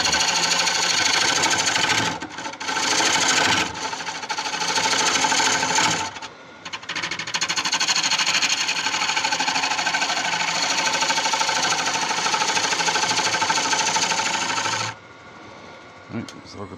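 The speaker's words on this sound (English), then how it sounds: "I'll go with a smaller ball gouge for doing this" Wood lathe turning a tigerwood bowl while a small ball gouge cuts, a loud continuous buzzing hum with brief dips where the tool lifts, then dropping quieter near the end.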